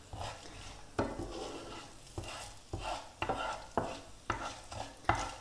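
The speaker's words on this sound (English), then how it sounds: "I'm gonna fry them nicely." Red chilies fry in hot oil for a tempering, a soft continuous sizzle broken by regular spoon scrapes and clinks against the pan, close and moderately loud, with no talking.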